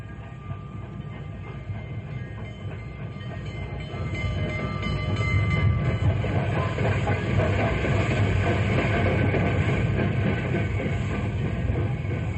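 A train rolls in, its rumbling and rattling growing louder over several seconds and then holding steady at a heavy, continuous roar.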